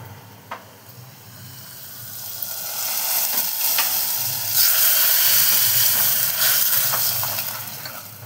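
Steady crackling sizzle of mustard seeds popping in hot oil as a tempering for sambar, close and fairly loud, swelling in the middle and easing toward the end.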